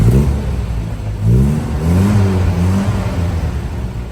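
A 1961 Austin Seven 850 engine revs up and settles, a loud nearby rising whine and buzz that swells twice before easing back to a steady hum, with no talk.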